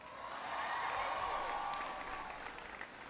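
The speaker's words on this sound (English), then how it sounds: "You know, give Brian a big round of applause for the introduction." An audience applauds steadily at a university event where President Obama speaks on education and the economy; dense, sustained clapping swells after the first half second and holds for about three seconds, then tapers slightly.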